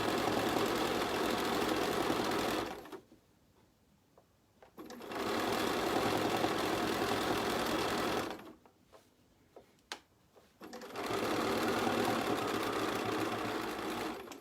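A sewing machine stitches quilt binding in loud, steady runs, pausing twice near the quarter-inch edge mark with the needle left down, then starting again, with a few soft clicks and handling sounds in the gaps.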